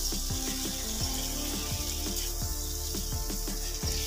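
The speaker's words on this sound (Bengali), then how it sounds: "এবারে মশলার সাথে কলিজাটা দিয়ে খুব ভালোভাবে কষিয়ে নিতে হবে।" Mutton liver fries with spices in a pan while being stirred, a continuous close sizzle broken by repeated scraping strokes of a spoon at an uneven rhythm.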